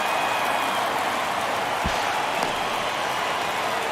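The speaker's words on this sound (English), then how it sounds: "you can feel this crowd waking up a bit here as the guys are starting to make some noise with their bats" A baseball stadium crowd in MLB The Show 23 keeps up a steady, loud roar of cheering and murmur across the whole stretch, with no clear breaks.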